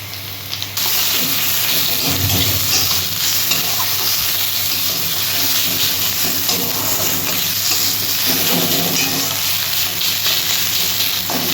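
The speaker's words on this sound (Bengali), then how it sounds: "রসুনটা দিয়ে দিচ্ছি।" Garlic paste sizzles and fries with onion in hot oil in a pan, a steady close hiss with stirring scrapes throughout.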